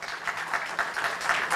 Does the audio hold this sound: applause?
yes